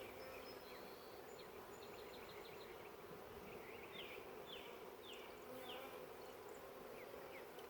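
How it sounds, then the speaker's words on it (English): A steady hum of many bees on a packed nuc frame fills the air, with occasional louder buzzing swoops as individual bees pass close by. "see those bees fall off?"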